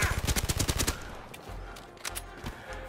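A big loud gun in the Blood & Truth VR shooter fires a rapid, evenly spaced burst of about a dozen close, punchy shots, then a few scattered single reports over a low rumble.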